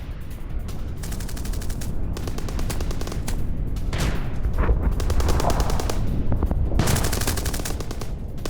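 War footage from the Russia–Ukraine fighting near Zaporizhzhia carries sustained gunfire, dense bursts of rapid shots, machine-gun rattle and loud cracks, continuous and fairly close throughout.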